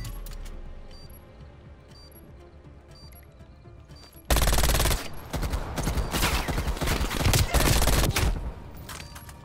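Rapid gunfire from the KS gun in a Call of Duty League match on the South Beach map bursts in loudly partway through, dense and sustained over quieter game ambience.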